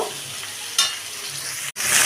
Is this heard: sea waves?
no